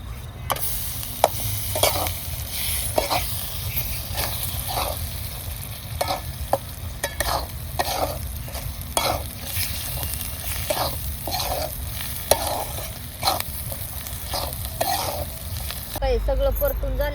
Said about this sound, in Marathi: आता त्याच्यासोबत ते मगाशी वाटलेलं वाटण घ्यायचे तळून त्याच्यात मसाले आता